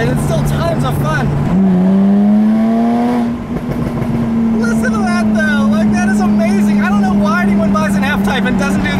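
A 2016 Jaguar F-Type V6 convertible with its active exhaust opened up gives a loud, close exhaust note that rises sharply in pitch, then holds a steady, strong drone as the car pulls hard.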